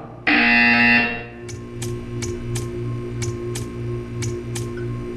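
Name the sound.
buzzer in a video game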